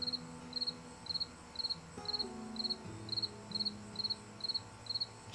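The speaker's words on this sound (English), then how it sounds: "can you hear that cricket?" A cricket chirps in a garden, sharp rapid trills repeating in short regular bursts about twice a second, clear and close over a quiet, faintly humming background.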